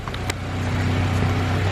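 A turbocharged Honda B18 engine runs on a dyno with a steady, loud drone and a brief click near the start, close and continuous throughout.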